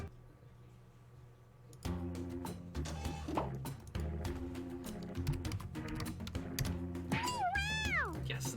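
A cat meow effect plays during a party game round, rising and falling tones near the end over busy background music with a constant layered bed.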